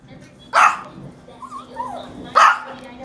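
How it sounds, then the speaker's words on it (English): Two sharp, high-pitched barks from Yorkie dogs reacting to thunder during a rainstorm, spaced about two seconds apart, with softer whimpers and faint background noise between them. "They're barking at the thunder."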